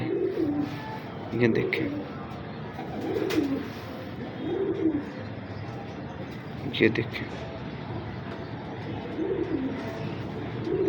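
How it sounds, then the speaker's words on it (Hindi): Male and female pigeons of a fancy breed with fine feathers give repeated soft, low cooing calls in a steady rhythm, close by, while someone talks over them almost throughout. "ये मैरों वाला कबूतर है।"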